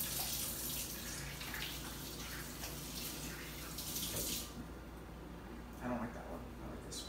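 Tap water runs steadily at a sink while someone scrubs up, with talk over it before the flow cuts off, leaving a quieter room with a brief faint splash near the end.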